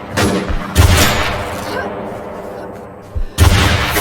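Loud bursts of gunfire ring out in the video game Infestation, in two clusters of sharp shots at the start and end with rumbling in between, while a voice talks over it.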